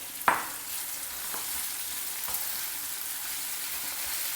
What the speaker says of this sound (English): When the onions are well fried, add in this kovakai or tindora pieces to it.